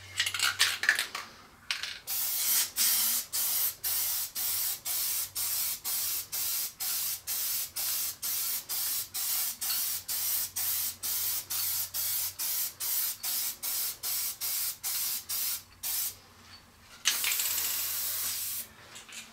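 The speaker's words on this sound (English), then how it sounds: "I've got some spray adhesive, and I'm going to give it a generous coating on the back of this" Spray adhesive hissing from an aerosol can onto the back of a workpiece in a woodworking shop, in a long train of short, loud, rapid bursts with brief pauses and a few longer continuous sprays.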